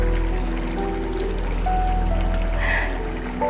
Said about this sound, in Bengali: বলক এসে পড়েছে, এখন একটু ঢাকনাটা দিয়ে দিলাম কিছুক্ষণের জন্য